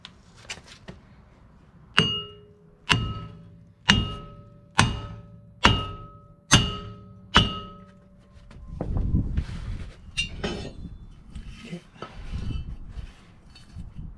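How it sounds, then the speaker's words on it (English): A 4-pound sledgehammer pounds the front brake rotor of a 2004 Nissan Sentra with seven sharp metallic clangs at a steady beat, followed by softer clanks, knocks and shuffling. "I'm going to be using a 4-pound sledgehammer. I'm going to be pounding the rotor."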